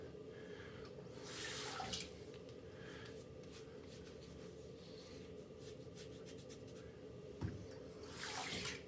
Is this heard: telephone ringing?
no